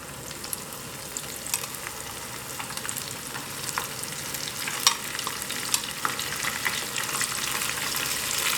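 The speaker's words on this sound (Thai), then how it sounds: "พอน้ำมันเดือดแล้วก็ นำพริกลงทอดเลยนะ" Chilies fry in boiling oil over medium heat, producing a continuous close sizzle dotted with small crackles and pops that grow slightly busier over time.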